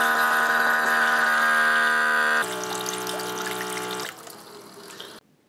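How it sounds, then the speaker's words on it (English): A LetPot MAX 21-pod hydroponics system's auto-refill pump runs steadily with a constant water-flow hum, loud at first, then dropping in level twice before cutting off near the end. "The bowl is empty, but the refill pump is still running."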